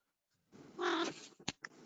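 A cat meows once, drawn out and close, during an indoor downtown development authority meeting, followed by a couple of short clicks or knocks.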